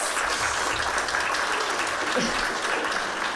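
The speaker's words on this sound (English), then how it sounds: "round of applause" Sustained applause from an audience at a Halloween museum evening event, steady and dense throughout, fairly loud with a faint murmur of voices beneath.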